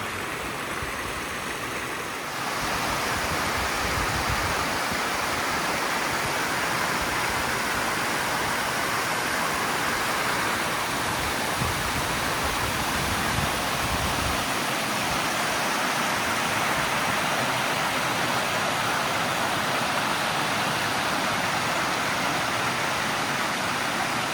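Side creeks run across a gorge walking track in a national park, producing a continuous broadband rush of flowing water, steady and fairly loud, with no voices.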